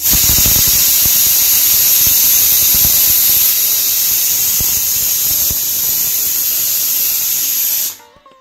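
A pressure cooker cooking corn on a home stove lets out a loud, steady whistling hiss of escaping steam that runs unbroken for about eight seconds and then cuts off abruptly.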